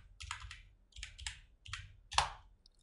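Keys clack on a computer keyboard during After Effects editing, with short bursts of clicky keystrokes in a loose rhythm, close and moderately quiet, with no talking.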